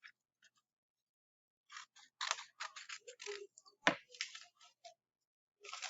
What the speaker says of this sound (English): So I'm just going to cut around this real quick.